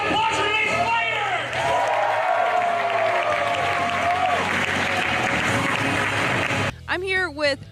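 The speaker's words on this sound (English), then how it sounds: "One round of applause for Lee Spider!" Applause from a convention panel audience at Wizard World 2016 comic con, loud and sustained with scattered whoops and cheers, before a voice starts speaking near the end.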